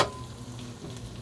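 Tofu and chicken liver being stirred in a pan while frying, with a close, steady sizzle and spoon scrapes over about a second.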